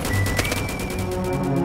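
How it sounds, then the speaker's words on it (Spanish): Continuous rapid machine gun fire from two roof-mounted guns on a shop in a video game, dense and loud throughout the short stretch with no pauses. "La tienda tiene dos ametralladoras en el techo."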